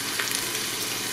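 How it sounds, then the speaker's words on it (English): Andouille sausage sautés in hot oil in the inner pot of an Instant Pot, giving a steady, close sizzle and crackle that continues evenly with no voices. "We're gonna saute the sausage until it's nicely browned"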